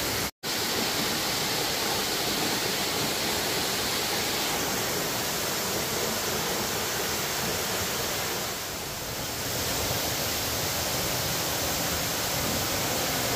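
Steady broadband roar of a waterfall on the Piney Falls Trail near Grandview, Tennessee, continuous and fairly loud throughout, with a brief dropout near the start and a slight dip in intensity around the middle.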